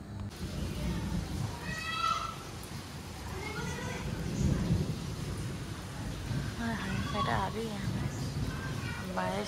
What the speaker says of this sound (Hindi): ये देखें ये हो रही थी बारिश।